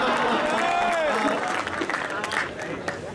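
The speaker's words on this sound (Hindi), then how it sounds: "तालियां बजाओ।" Audience applause at a large Hindi poetry gathering (kavi sammelan), a dense, steady wash of clapping with crowd voices and a sung or called-out tone over it, continuing throughout.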